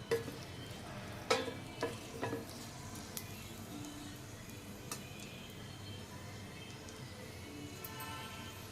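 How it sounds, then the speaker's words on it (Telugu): Dried red chillies fry in hot oil for egg pulusu, a steady close sizzle with a few sharp crackles and a stir near the start, then settling into an even hiss. "ముందుగా మనం ఎండుమిర్చి వేసుకుందామండి"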